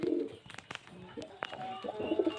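Pigeons of fancy breeds, including red-bordered birds, cooing softly in short repeated low calls mixed with faint chirps, close by and quiet.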